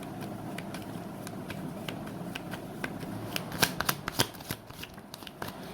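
Tarot cards shuffled by hand, a run of quick crisp riffling flicks that grows busier and sharper midway, close and fairly quiet against a faint background hum.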